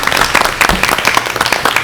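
Audience applause at an elementary school opening-of-schools report meeting, a short steady burst of many hands clapping with no gaps, fairly loud and close.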